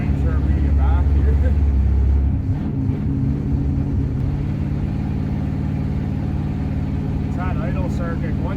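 A 1966 Oldsmobile 88 with a 425 big block V8 and a vacuum secondary carburetor in need of cleaning runs loud and close, rising hard for about two seconds before settling back to a rough, steady idle rumble.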